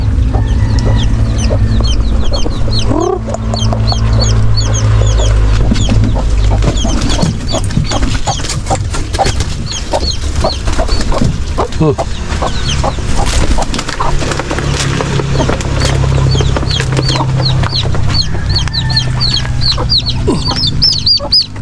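Rhode Island and Brahma hens cluck continuously at close range, with repeated rhythmic clucks and occasional squawks over a steady low background rumble.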